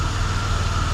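A Chevrolet Impala with the 3.5-liter engine idling, a steady low rumbling drone with an even pulse, close by and continuous with no talk over it.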